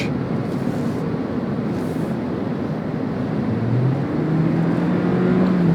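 A 2023 Toyota Prius XLE with a CVT accelerating, a steady low drone that rises smoothly in pitch without gear steps, heard from inside the car.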